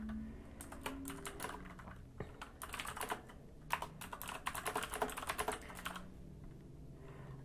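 Quick typing on a computer keyboard while entering a proposal title in the Aragon DAO app, with bursts of crisp, close key clicks separated by short pauses and no speech.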